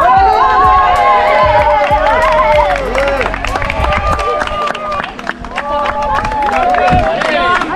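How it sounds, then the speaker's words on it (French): Roadside spectators clap and cheer for runners passing at the Lac du Der marathon in 2021, a steady crowd noise with voices calling out over it throughout. "Allez, on applaudit, les applaudissements."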